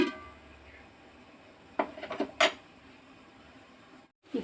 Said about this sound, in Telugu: మూత పెట్టేసుకొని ఉడికించాలి.